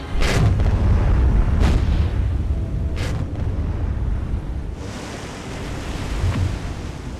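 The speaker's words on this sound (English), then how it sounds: "So the explosions are more explosive, so the guns are gunnier." Naval guns fire in a war video game, heavy booming blasts and rumbling explosions rolling out in several loud bursts with sea-like wash between them, no voices over it.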